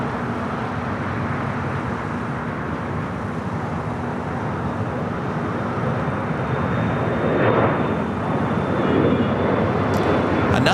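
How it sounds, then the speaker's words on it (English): Airbus A350 airliner at LAX, a steady broadband jet roar that holds loud throughout and swells slightly toward the end, with no voices over it. "This is our third A350 flight heading to Atlanta, flight 9960."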